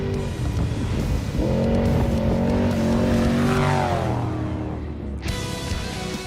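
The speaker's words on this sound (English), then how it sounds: "You can hear the difference in the engine going by." An off-road race truck engine roars past during a Baja Nevada desert race, rising in pitch as it approaches and falling away as it passes, loud and close, with no talking.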